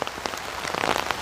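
Rain pouring onto farmland planted with young trees, a dense, steady patter of drops striking leaves and ground, close and continuous with no voices.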